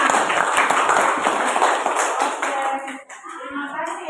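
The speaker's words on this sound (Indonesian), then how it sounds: "Berikan tepuk tangan." A school class applauds together, a dense burst of many hands clapping loudly and close for several seconds before thinning out into scattered claps, with faint children's voices mixed in.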